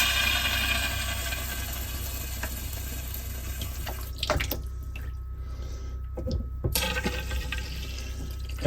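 Water rushes steadily from shower plumbing as pressure is relieved after the water is turned off, fairly faint, then breaks off and returns in short surges.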